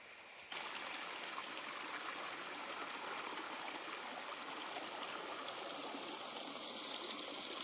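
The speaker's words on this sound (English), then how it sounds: "Hot water coming out of the ground." Hot spring water flows and trickles steadily from the ground at Buckeye Hot Spring, a continuous close burbling that starts abruptly and carries on alone without talking.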